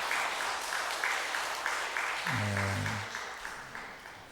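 A church congregation at a Korean Sunday service claps in steady encouragement, a sustained wash of many hands that slowly fades, with a low musical tone briefly rising underneath partway through.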